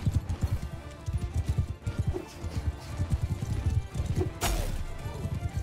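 Cavalry horses galloping in Mount & Blade II: Bannerlord, a dense, rapid patter of many hoofbeats drumming across a battlefield with a sharp crash near the end, mixed with game clatter.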